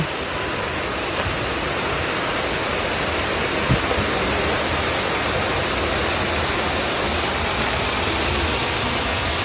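Loud, continuous roar of the waterfall at Whatcom Falls, Washington, a dense, steady rushing of falling water heard up close with no other sounds.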